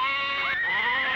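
A sheep bleats once in a retro allergy commercial, a sustained wavering bleat that is loud and close and heard alone.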